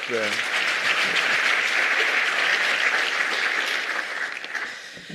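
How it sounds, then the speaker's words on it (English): Audience in a parliamentary science and innovation plenary breaks into sustained applause, a loud, dense clatter of many hands that holds steady and then tapers near the end. "You are allowed to clap."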